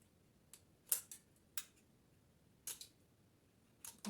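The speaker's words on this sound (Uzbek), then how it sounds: "Endi buni simini ochamiz." Insulation is stripped off a lamp wire in a series of sharp, isolated snips and clicks, faint and close, spaced irregularly with quiet between them.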